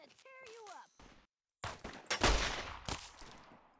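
Gunfire in Fallout New Vegas arrives as a loud, close burst of sharp shots with ringing decay after a brief lull, following a short stretch of talking.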